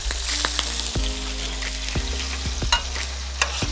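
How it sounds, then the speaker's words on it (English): Smoked pork belly blistering in a shallow bath of hot oil on a Char-Griller barbecue, with steady sizzling broken by sharp, scattered pops and crackles, close and alone. "Some areas are blistering, as you can tell from the popping."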